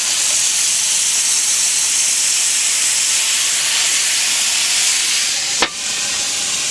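Soy sauce hisses and sizzles over zucchini grilling on a Weber, a steady, loud, bright sizzle broken by a brief sharp clink near the end.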